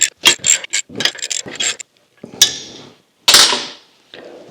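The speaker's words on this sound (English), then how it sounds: "I'm just going to tighten down the pressure plate. Run these in and then tighten them in increments like I do every time." A ratchet wrench tightening pressure plate bolts in increments during a Scout Yukon clutch assembly, with close, loud bursts of rapid clicking separated by short pauses.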